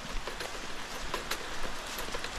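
Steady rain pours down, a dense hiss with scattered droplet patters on a hard surface, continuous throughout.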